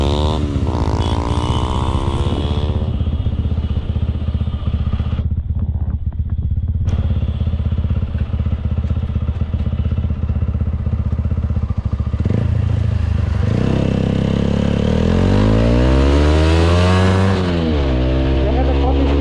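A motorcycle ridden for a rolling stop stunt roars close by, with engine revs climbing and falling through repeated acceleration sweeps, a brief lull midway, and a strong surge toward the end. Speech is heard over the engine noise.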